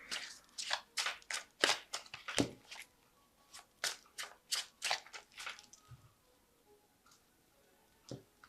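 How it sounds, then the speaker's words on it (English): A tarot deck is shuffled by hand in a quiet room: a quick run of soft, crisp card riffles and flicks, then a few scattered taps as the cards settle. "So I'm just going to shuffle this deck."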